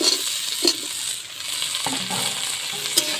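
Apple pieces being stir-fried in a pan with ginger and cumin paste, giving a continuous close hiss of frying and a few light scrapes and taps from the stirring spoon, with no voices.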